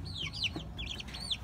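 Chickens cluck and chirp nearby in a quick series of high, squeaky calls, several birds overlapping over a low rumbling outdoor background with no voices.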